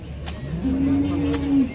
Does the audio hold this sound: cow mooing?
yes